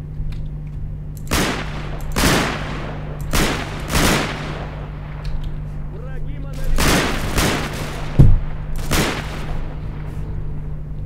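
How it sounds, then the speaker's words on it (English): Rapid automatic gunfire from a weapon in S.T.A.L.K.E.R. Call of Pripyat, heard as repeated loud bursts of shots spread across the clip over a steady low hum, with a voice talking between bursts. "For some reason I'm on auto fire, dude."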